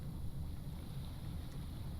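Boat engine in the Stormworks sea game idling as a steady low rumble close by, blended with wind-like hiss and water wash, continuous and even throughout.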